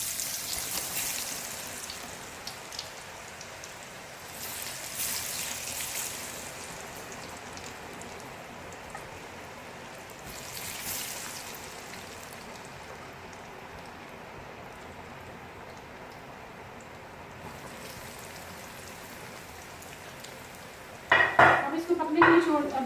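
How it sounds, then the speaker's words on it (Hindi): Masala French fries coated and frying in hot oil, a steady close sizzle like light rain, broken by clinks of a utensil against the pan near the end. "ये देखिए हमारे मसाला फ्रेंच फ्राइज फ्राई हो रहे हैं।"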